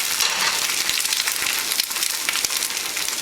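An egg frying in a pan at breakfast, a steady, bright crackling sizzle with small pops, close and uninterrupted.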